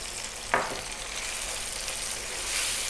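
Cumin, coriander, turmeric and chili powder fry with tomatoes in a pan for a lamb curry, giving a loud continuous sizzle and crackle, with one brief knock of the spices or a spoon going in early on.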